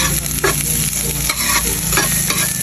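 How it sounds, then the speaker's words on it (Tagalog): Garlic, onion and ginger sizzle steadily in a pan as the base for adobo, with repeated scraping stirs breaking through the continuous close frying hiss; no one speaks. "Magigisa po muna ako ng rekado."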